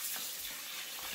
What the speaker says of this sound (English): see how clean the pan is after rinsing it off with water